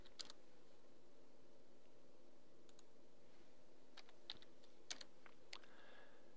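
Sparse keystrokes on a computer keyboard during CAD modeling work, a handful of faint, crisp clicks scattered over a quiet background hum.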